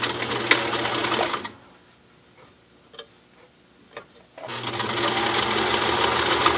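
A sewing machine stitches two layers of a cloth face mask together in a rapid, loud whir. It pauses for a few seconds of quiet with a couple of soft ticks, then starts stitching again.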